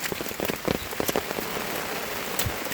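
Rain falls steadily on a mountain hiking trail, a close, dense patter of drops striking surfaces with no voices.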